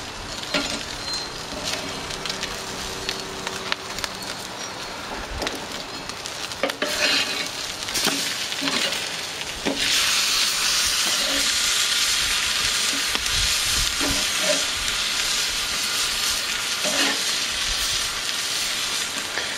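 Bacon crisping on a plank over a smoker for a smoky bacon cheeseburger gives a loud, steady sizzle and hiss that swells stronger midway, broken by occasional scrapes and clicks of handling, with no talking.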